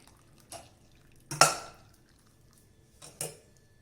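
Whey from lemon-curdled paneer drips and splashes through a cloth strainer, a few soft separate plops and one louder splash spaced across a quiet kitchen.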